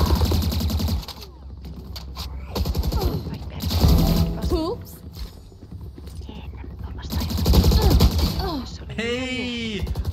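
Gunfire in the Valorant video game crackles in rapid bursts and single shots, loud and close, under and between excited talking from players.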